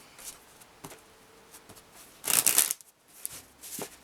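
Lenormand fortune-telling cards being shuffled by hand, with soft scattered riffles and taps and a louder, dense burst of card flutter in the middle, close and quiet.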